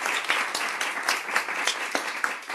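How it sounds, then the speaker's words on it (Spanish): Audience at a talk on stress at a medical centre breaks into a short burst of dense, steady clapping, fairly close and loud. "un aplauso para Martín"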